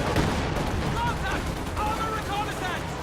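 Katyusha rocket artillery fires in a video game battle, a dense rumbling barrage of booming blasts and crackling impacts that runs continuously, loud and close, with someone talking over it.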